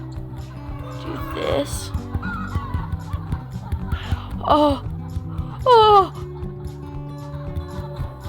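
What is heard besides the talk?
chickens clucking in the video game Egg, Inc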